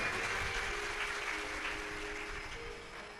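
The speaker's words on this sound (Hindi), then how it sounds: "एक बार इनके लिए जोरदार ताली बजाएं।" Audience applause at a live Shiv Mahapuran religious discourse gathering, a broad continuous wash of clapping from a large crowd, steady and fairly loud throughout, fading a little toward the end.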